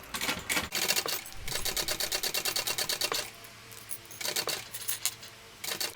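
A sewing machine bastes a zipper panel onto a fabric shoulder bag, its needle running in fast, steady bursts of rapid clatter with a brief pause before it starts up again nearby.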